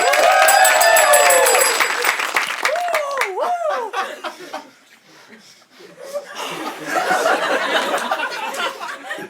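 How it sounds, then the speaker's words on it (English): Audience at a live improv comedy show laughs and chuckles among voices, then after a brief lull breaks into a broad, sustained round of applause for the performers. "big round of applause for Sasha and Michael"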